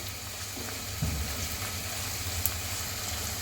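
Ginger, garlic and onion paste fries in a pan for prawn pulao, giving a steady, close sizzling hiss that holds evenly throughout with a faint soft bump near the middle and no voices.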